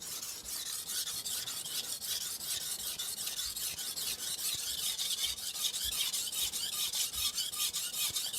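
A hard stainless vintage Victorinox 8-inch knife is drawn across an FSK sharpening stone in steady, evenly paced strokes, giving a continuous close, bright rasping scrape with no talking.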